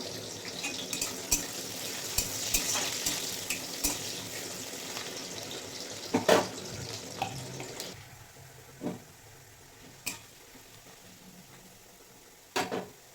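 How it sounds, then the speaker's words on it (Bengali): Chopped onion and garlic frying in a pan make a sizzle that fades from moderate to quiet, punctuated by scattered sharp clicks and scrapes of stirring, close by and with no talk. "পেঁয়াজ অনেকটা ভেজে নিয়েছি"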